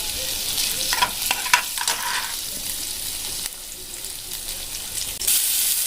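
Finely chopped garlic and ginger fry in hot oil, a continuous sizzle with a few clinks of a stirring spoon early on and a louder burst of hiss near the end.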